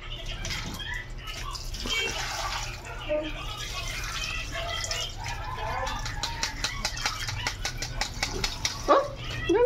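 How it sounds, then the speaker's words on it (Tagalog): Water is poured into a cooking pan of fish on a stove, splashing and trickling with a few drips near the end, under faint background voices and a brief dog bark. "lagyan natin ng tubig,"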